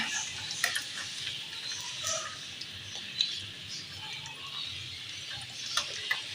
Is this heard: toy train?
no